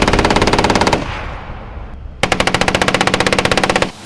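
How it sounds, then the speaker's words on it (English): An M3 .50 caliber machine gun fires two long, loud bursts of rapid, evenly spaced heavy shots, separated by about a second of fading echo, with no voices. "the Avenger system is equipped with a .50 caliber M3 machine gun"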